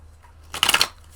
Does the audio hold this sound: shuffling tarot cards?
yes